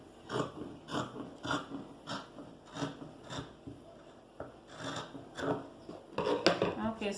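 Scissors snipping through fabric while cutting out a cold-shoulder top, a quiet run of short rhythmic rasping cuts repeating roughly every half second, close by.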